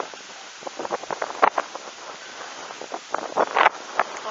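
Strong wind gusts from the August 2015 storm Hans hit Tour-en-Sologne, France, in rough, buffeting bursts of rushing noise that swell and drop irregularly, with heavier blasts now and then, and no talking.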